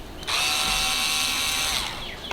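A power drill whirs steadily for nearly two seconds, close and loud, as it backs screws out of an Apollo Phantom electric scooter, starting abruptly and winding down at the end.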